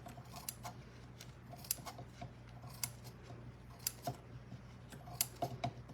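Scissors snipping material while restoring an old wooden box, a series of quiet, sharp, close cuts in an irregular rhythm against a faint hum.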